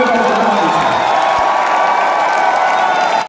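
Loud, dense applause with cheering and whoops from a large audience at a kavi sammelan poetry gathering, continuous and steady for the whole stretch before cutting off abruptly.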